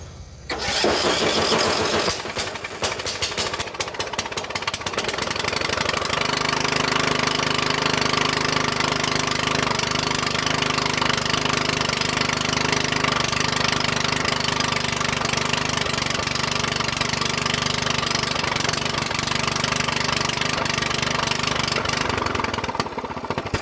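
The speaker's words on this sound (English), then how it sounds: "that thing just ran on its own carburetor" A small Briggs & Stratton gasoline engine sputters and catches, then runs loud and steady at a constant roar for the rest of the recording, very close.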